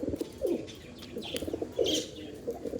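Pigeons coo softly nearby in low, rolling bursts, with a few light chirps mixed in.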